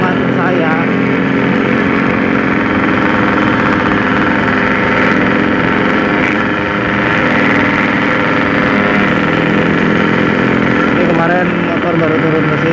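A Yamaha RX King motorcycle engine runs steadily and loudly throughout, a constant mechanical drone with a voice heard faintly beneath it.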